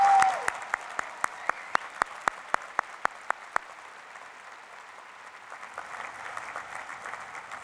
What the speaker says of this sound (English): Please join me in applauding these outstanding young men and women.